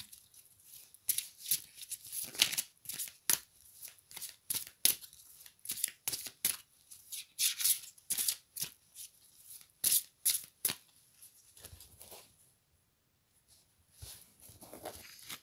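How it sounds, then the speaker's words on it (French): Tarot cards are shuffled and three are drawn, producing repeated close, crisp riffling and slapping bursts in an irregular rhythm, then a short quiet pause and a few soft card sounds. "Je vais tirer 3 cartes."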